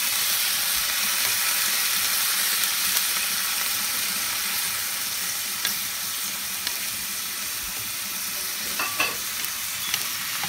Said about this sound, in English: And then you put the rest of the mint in to add the mint aroma and flavor. And then you stir it.